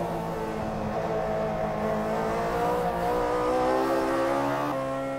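Old-school Toyota AE86 Hachiroku race cars on 15-inch wheels, chased bumper to bumper on a track by cars on 17-inch wheels, engines loud and close, rising and falling through revs and gear changes.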